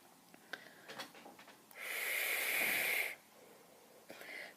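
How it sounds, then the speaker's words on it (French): One long, close breathy hiss of vapour exhaled from an e-cigarette with raspberry e-liquid, lasting just over a second and set between quiet, faint rustling. "La vapeur que ça fait, c'est juste dingue."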